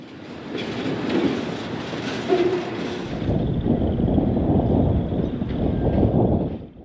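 A Norfolk Southern SD70M-2 locomotive hauls a train past at close range, making a loud continuous rumble with rhythmic clickety-clack of wheels over rail joints that eases off at the end.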